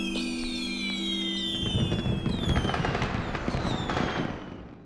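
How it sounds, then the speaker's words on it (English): Fireworks display in the video game Talos 2: a steady hum under whistling launches rising overhead, followed by a run of crackling bursts and pops that fade out near the end. "you can find a whole bunch of fireworks, and it would be a shame to just let them go to waste."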